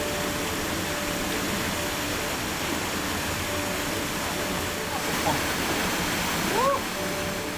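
River in the Balkans flowing beside a night camp, a steady broadband rush filling the scene without pause, with a faint brief voice near the end.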